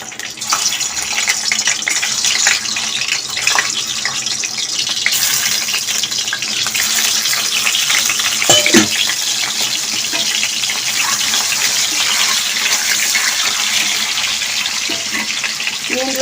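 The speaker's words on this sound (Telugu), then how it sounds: "ఇవి వేపుకున్నాము కొద్దిగా నూనెలో." Eggs frying in about two tablespoons of oil in a kadai on a stove for egg masala curry, giving a steady, close sizzle and hiss that runs unbroken throughout.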